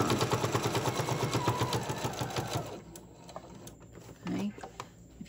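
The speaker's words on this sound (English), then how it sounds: "I'm going to finish sewing all the way around." A sewing machine stitches around the edge of a quilted fabric hot pad, a loud steady rapid needle rhythm that stops partway, leaving quieter handling clicks and a brief voice.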